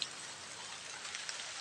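Heavy rain pours steadily outdoors on a road near a river, a dense, even hiss of falling water with no voices.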